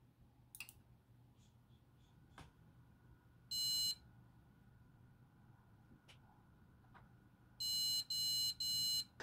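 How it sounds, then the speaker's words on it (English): Electronic motherboard error beeps from a SOYO H311M-DVH failing to boot, in a quiet room: one short burst of rapid beeping, then three more longer beep bursts in a row, with faint clicks between. "the motherboard would refuse to boot with several beeps"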